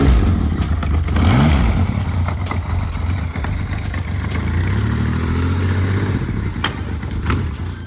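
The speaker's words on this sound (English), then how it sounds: "at idle, a rattling noise is coming from the engine" A 1981 Yamaha XS850 motorcycle engine idles with a low, uneven rumble and a loose metallic rattle running through it, close up and continuous.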